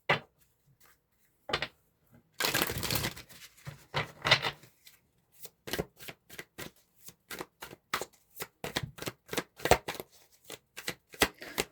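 Tarot cards are shuffled by hand close up: a soft rustling riffle first, then a long run of quick, evenly spaced crisp card snaps that grow steady and rhythmic toward the end.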